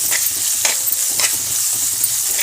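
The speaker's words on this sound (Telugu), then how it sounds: "ఇలా వేయించేసుకోవాలి." Green chillies and garlic frying hard in a tempering of hot oil, a loud, dense, unbroken sizzle with faint rhythmic stirring underneath and no speech.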